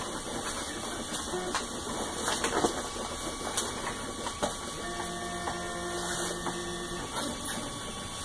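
Geeetech Prusa i3 Pro B 3D printer running a large print of four parts at once, a quiet steady motor whir and hum with shifting stepper tones and faint clicks throughout.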